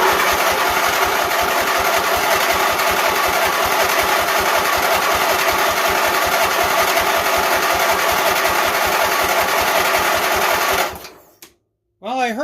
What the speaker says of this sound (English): Well, I heard a little bit of a backfire.